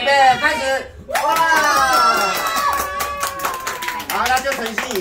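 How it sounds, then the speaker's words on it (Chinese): Guests at a banquet toast clap hard on cue, sharp overlapping hand slaps mixed with loud excited shouts and cheering that swell, dip, then surge again. "兄弟姐妹来，谁鼓掌？ 最大声的人有奖品。"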